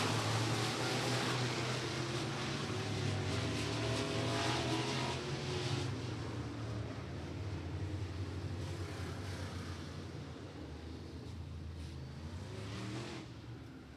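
Pro Late Model race cars in a heat race at Beckley Motor Speedway: a dense, continuous roar of several engines at high revs, loud and steady with slight rises and fades as the cars circle the track, no talking.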